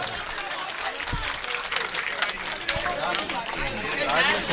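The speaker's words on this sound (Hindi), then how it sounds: "जनाब नईम फराज साहब पुरजोर तालियों से एक बार इस्तकबाल करें।" Audience at a mushaira in Sanawad giving applause to welcome a poet, a dense wash of clapping mixed with crowd noise and voices throughout.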